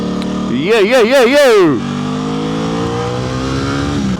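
An Aprilia RS660 motorcycle revs sharply several times, its engine pitch rising and falling in quick swells. It then settles into a steady, loud drone while riding.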